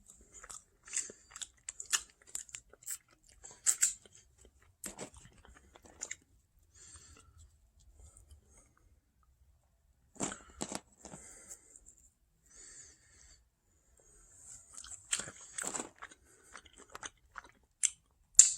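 An onion ring being bitten and chewed up close, with scattered crisp crunches in irregular bursts separated by quiet gaps, louder clusters near the middle and end.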